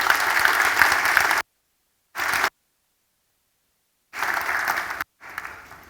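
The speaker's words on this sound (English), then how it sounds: "I'd like to give everyone who works on the election team a massive round of applause" Audience applause for a council election team at an atrium briefing, coming in separate bursts of clapping broken by silent gaps, with a shorter final burst that fades.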